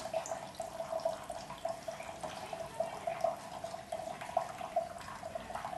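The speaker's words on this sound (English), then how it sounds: "we will see that the water is pouring through the inner tube and falls from the base of the cup" Water drains out through the base of a Pythagorean cup in a faint, continuous trickle with quick rhythmic dripping and splashing, close by and without talk.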